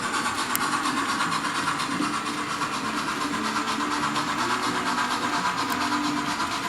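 A model train locomotive runs on its layout with a steady mechanical hum and light rhythmic clatter, the sound continuous and moderately close, no talking.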